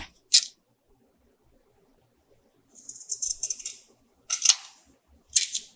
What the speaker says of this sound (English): I'm going to cut here so that the only thing on here is yellow and white polka dots